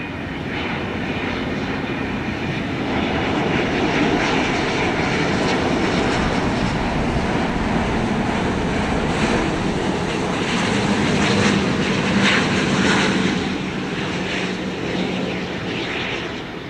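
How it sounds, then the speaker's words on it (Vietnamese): An Air France Airbus A350-900 lands at Tan Son Nhat airport on a foggy morning, its engines producing a loud, steady, broadband roar that holds for the whole stretch and swells slightly near the end. "Đây là chiếc Airbus A350-900 của hãng hàng không Air France."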